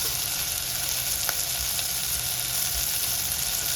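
Spices such as asafoetida and turmeric sizzle in hot oil as a tempering for moong dal, giving a continuous close, steady frying hiss with no talk.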